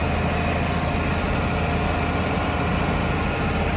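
A broken-down farm tractor idles steadily nearby with a low, continuous diesel rumble and faint vibration, no voices heard.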